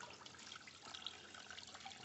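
Water gushing from the lower outlets of a Suzuki 250 four-stroke outboard motor during flushing, a faint steady splashing stream that runs continuously without pause.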